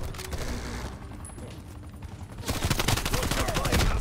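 Rapid automatic fire from an AK74u in Call of Duty Cold War, a dense crackling burst that grows louder in its second half, with a voice briefly heard alongside.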